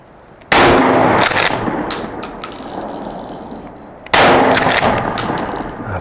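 A Beretta 1301 Tac shotgun with a Kick Off stock fires Black Aces 2 3/4 inch slugs in two loud, sharp blasts about three and a half seconds apart, each trailing into a long echoing outdoor decay.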